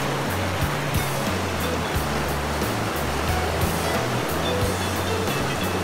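Gold panning in a stream, with loud, constant rushing and sloshing water filling the scene from start to finish.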